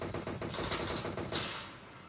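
Automatic gunfire in a battle royale video game match comes as a quick, rapid burst of repeated shots, moderately faint and lasting about two seconds before trailing off.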